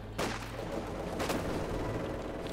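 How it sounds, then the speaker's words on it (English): An MG42 machine gun firing in the Company of Heroes 2 strategy game: a dense, continuous crackle of automatic fire with a couple of sharper bursts, loud and sustained across the short stretch, no voices. "obviously the MG42 firing up to support them"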